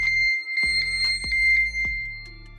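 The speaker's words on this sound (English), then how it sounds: "the find mobile option, which plays a loud tone on your mobile." A smartwatch find-phone alert plays a steady, loud, high electronic tone, sustained for a couple of seconds over a low background hum, with a few clicks.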